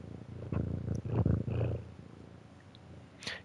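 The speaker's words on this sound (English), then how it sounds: "You guys probably hear my cat purring." A domestic cat purrs loudly while sitting on a lap, a low rumbling vibration that swells in pulses for a second or so, then fades to a softer purr, heard close with no talk.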